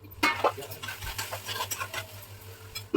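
Stirring rice cooking in a pot, with a few close metallic scrapes and clinks of a utensil against the pot over a faint low hum, and brief sizzling in between.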